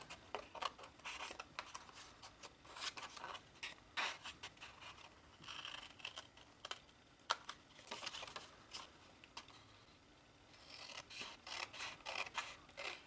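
Scissors snip through paper card for a Valentine candy pouch holding Ghirardelli chocolates, a steady run of close, crisp cutting strokes with brief pauses between them.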